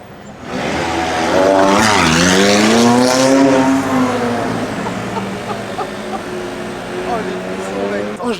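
A McLaren GT sports car drives past at close range on a street in Monaco during the Formula 1 Grand Prix weekend, its engine note rising loudly as it approaches and then sweeping down and fading away.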